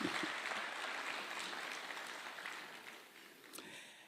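Steady applause from a crowd at a public event in Kenya, fairly even throughout and gradually tapering off toward the end.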